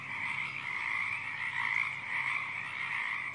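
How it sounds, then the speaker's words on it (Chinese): Frogs croaking in a steady, continuous chorus, moderately loud and unbroken, with no voices over it. "999个兄弟每天都开心地唱着青蛙之歌。"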